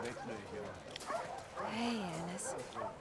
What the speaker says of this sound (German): Ja, viele Hunde.